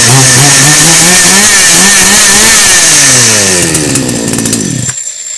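A petrol chainsaw, just back from a starter repair, runs loud and close, revving hard and steadily before cutting out abruptly near the end.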